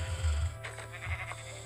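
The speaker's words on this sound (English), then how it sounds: "I need more sheep. One more sheep." Sheep bleating in the video game Minecraft, two short bleats close together near the start and another soon after, over a steady low game hum.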